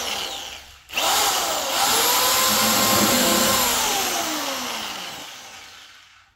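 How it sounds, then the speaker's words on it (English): A rotary file spun by a drill grinds a scrap metal pipe for a turbo hot side, a loud continuous whining rasp that starts abruptly after a brief pause and slowly fades as it winds down. "we're going to use a rotary file in a drill"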